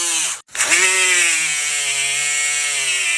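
A handheld buffer-grinder spins up after a brief cut-out, holding a steady, loud, high-pitched whine with a droning hum beneath, close by and alone.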